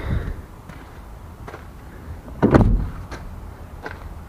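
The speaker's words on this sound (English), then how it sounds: "Door still works." A damaged salvage car's door swings on its hinges, with a couple of light clicks leading to a solid thump of it shutting, heard up close.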